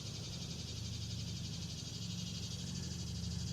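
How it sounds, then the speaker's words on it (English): Cicadas drone in a constant high, shrill buzz, loud and steady throughout, with a low background hum beneath. "As you can probably hear the cicadas"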